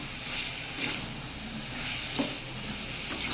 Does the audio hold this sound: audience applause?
no